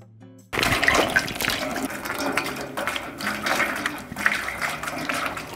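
Water pours onto a tree outdoors during a desert heatwave at an off-grid homestead, a steady splashing, trickling stream that starts abruptly and runs continuously up close.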